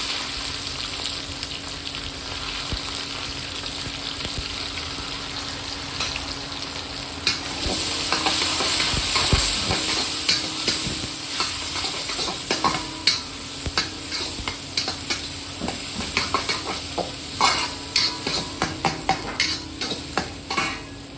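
Onions and chillies stir-fried with mustard seeds for Chettinad crab curry, a steady close sizzle with repeated scraping stirs and clattering pan knocks throughout, no talk.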